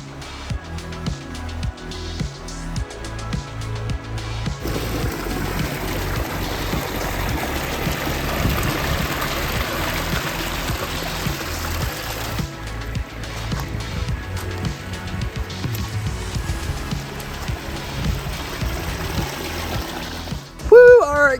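Water from a backyard pond waterfall pours over natural stone in a continuous splashing trickle, fairly close and steady, with brief knocks and a short sharp noise at the very end.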